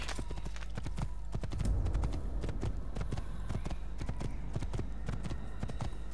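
Steady clip-clop of horse hooves trotting in Assassin's Creed, a continuous rhythmic gait over a low ambient rumble.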